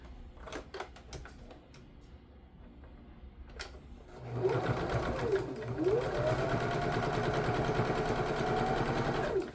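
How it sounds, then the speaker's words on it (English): A domestic sewing machine runs a seam along the bottom edge of bias tape on a robe cuff, starting after some quiet handling and then whirring loudly and steadily for several seconds. "I'm just going to again run another seam down the bottom edge of the bias tape"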